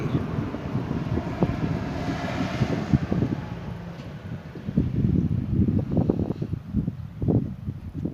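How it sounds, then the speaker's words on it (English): Gusty wind buffets the microphone with low rumbling bursts that rise and fall throughout, strongest near the end, with no voices. "windy"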